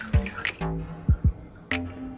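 Water drips off skinless chicken pieces being dipped for fried chicken, a few separate plops and splashes close by, irregularly spaced over a faint running-water background.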